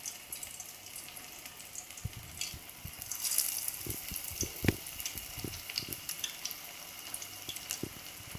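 Valapoo vada frying in oil in a kadai, a quiet, steady bubbling sizzle with scattered small pops and a few light utensil taps, close but faint.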